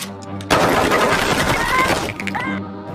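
Rapid burst of gunfire in a gangster film shootout, loud and dense for about a second and a half, sharp and crackling, with music and other film sound around it.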